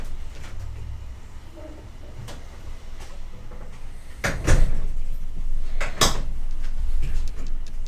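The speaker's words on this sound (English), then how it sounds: "Gotta close the door." A door swings shut against a steady room hum, with one solid thud and a second knock shortly after, in a Florida home where it is being closed to keep mosquitoes out.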